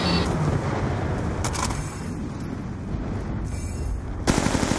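Sustained aircraft gunfire strike in a military video game, with a dense, loud continuous roar of rapid fire and blasts that ends in a sharper burst of impacts.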